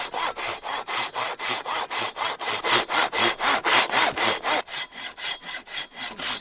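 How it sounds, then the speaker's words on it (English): Steady back-and-forth sawing through wood, about two strokes per second, close and loud, with a brief change in pace near the end. "one guy sawing wood"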